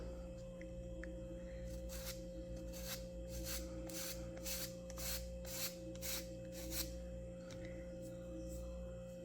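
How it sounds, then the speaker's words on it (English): Sandpaper rubs across a wooden hull part of a Model Shipways Norwegian sailing pram model, a run of short rasping strokes in steady rhythm, close and fairly faint over a low steady hum. "We're just going to sand a little bit on each side"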